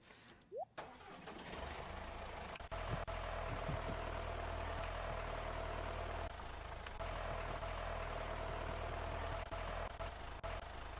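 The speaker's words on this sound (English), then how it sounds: "Let's get the tractor out." A tractor engine in the farming game Stardew Valley starts up after a brief click and then runs at a steady mid-pitched idle, loud and continuous with no talking.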